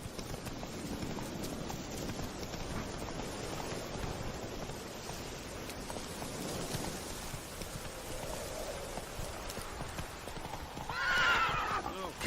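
Roach, a horse in The Witcher 3, clip-clops steadily through rain at a moderate distance and gives a bright neigh near the end. A voice talks faintly underneath.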